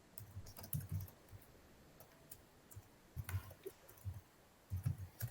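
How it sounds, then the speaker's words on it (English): Computer keyboard typing during an online management workshop meeting, soft key clicks arriving in irregular bursts, fairly quiet and close, with no talk over it. "I see Mike is typing"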